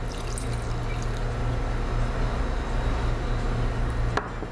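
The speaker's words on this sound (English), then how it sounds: "After that, we add the water." Water pours steadily into a bowl of a ginger snack mixture during home cooking, a soft continuous splashing trickle under a low steady hum, ending in a brief knock.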